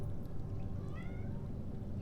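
A pet cat meows once in a short, rising-falling call at moderate volume over a steady low background hum, with no talk.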